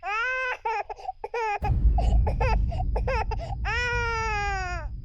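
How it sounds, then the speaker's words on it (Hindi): An infant cries in repeated wailing bursts, loud and close, with a rumbling broadband noise rising beneath the later cries. "बच्चे के रोने की आवाज"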